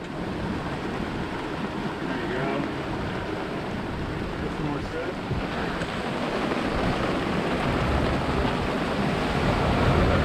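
Strong wind roars and buffets the microphone out on open water during a stormy Atlantic crossing under sail, building into a heavier gust by the end, with waves washing underneath.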